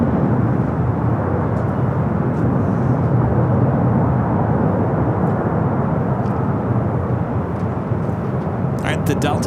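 A Delta Airbus A350-900 airliner at LAX, flight to Tokyo Haneda, gives a loud, continuous broadband engine roar that holds steady throughout, with faint clicks near the end.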